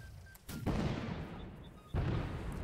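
Musket volleys from Redcoat lines firing on a Prussian line in the Napoleonic-era video game Holdfast: Nations At War, two booming shots with rumbling tails, a distant crackle between them.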